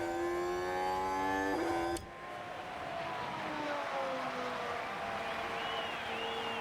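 A high-pitched Formula 1 video game car engine whines as it revs up, drops abruptly as a gear shifts, then climbs again, steady and alone with no talking.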